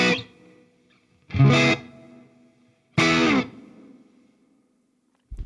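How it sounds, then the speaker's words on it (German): Distorted electric guitar chords played through a Falken1 JamKing amp modeler, with the noise gate cutting the hiss as each chord decays; two loud strummed bursts with quiet gaps between them, and a third starting at the end. "Dann hört ihr schon, wie das Gate langsam das Rauschen abdrückt"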